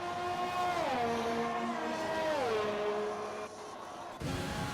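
Formula 1 cars from an F1 video game racing at Melbourne, engine whines rising and falling in pitch as the cars shift and pass, loud and continuous, ending with a sharp burst of revving.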